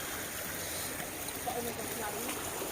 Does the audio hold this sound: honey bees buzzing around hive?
no